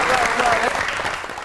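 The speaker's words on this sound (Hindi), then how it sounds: "आपकी बहुत सी तालियों में दी one and only Natasha Hussain." Studio audience applause welcoming a guest onto a Pakistani TV comedy talk show, a dense, steady wash of clapping filling the whole stretch, loud and close, with a voice faintly under it.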